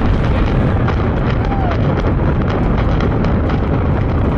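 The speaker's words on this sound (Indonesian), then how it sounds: "sekitar 20 ribuan orang menyaksikan bangunan itu meledak dan roboh ke bawah" Explosives bring down a 29-storey building, producing a loud, continuous roaring rumble of blasts and collapsing structure with no break across the whole stretch.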